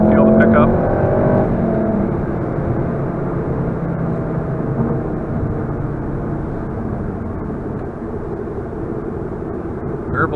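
A Volkswagen Golf R engine pulls hard in third gear, a loud, steady droning rise heard from inside the car, while someone talks over it.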